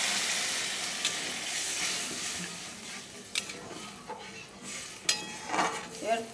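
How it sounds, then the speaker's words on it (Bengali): Water poured into a pan of fried spices for a fish curry makes a soft bubbling sizzle, with a few louder pops and utensil clinks toward the end. "মশলা আমার ভালো মতো করে ভাজা হয়ে গেছে, বাটি ধুয়ে জল দিয়ে দিলাম।"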